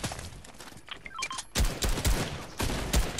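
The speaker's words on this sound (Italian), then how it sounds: "Mi stanno sparando." Rapid automatic gunfire from the video game Fortnite erupts in loud, dense bursts after a brief quieter lead-in, sustained volleys continuing to the end.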